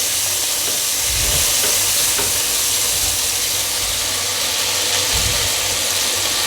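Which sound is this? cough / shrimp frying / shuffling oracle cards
shrimp frying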